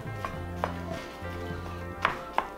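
A spatula chops and breaks up ground beef in a hot skillet, a few sharp scraping knocks spaced irregularly over a low sizzle, fairly quiet and close.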